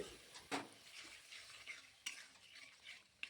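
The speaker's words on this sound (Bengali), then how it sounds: "জল দিয়ে আবারও ভালোভাবে মিশিয়ে নিচ্ছি" Tangra fish and potato curry being stirred in a pan after water is added, with faint scraping and gentle sizzling plus a few sharper utensil knocks, quiet and close with no talking.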